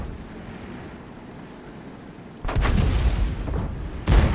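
A tank cannon fires in the World of Tanks video game, a loud, booming blast that rumbles on, then a second sharp report follows near the end, both over a steady low background hum.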